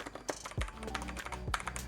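Typing on a white Genesis Thor 230 TKL mechanical keyboard: a quick run of clicky keystrokes with a few heavier thocks, close and crisp, with no voice over it.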